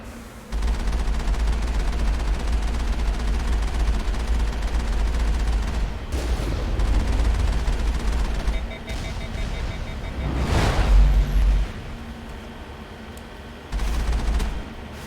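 Incoming rocket attack in the Mass Effect video game, with loud sustained roaring blasts and explosions, a sharp burst near the middle and another at the end.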